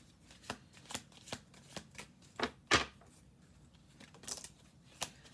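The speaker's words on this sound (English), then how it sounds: "Do 2 more shuffles." A deck of cards being shuffled during a tarot reading, a series of crisp riffling bursts and taps at irregular intervals, close and fairly quiet with no talking.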